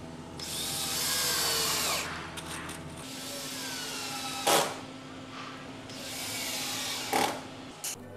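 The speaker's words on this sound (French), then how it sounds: "Les barrettes sont vissées sur le support lors du montage" Power drill driving screws to fix decking battens onto their support during Easyclip terrace installation, a sustained whirring run broken by brief pauses and a few short bursts.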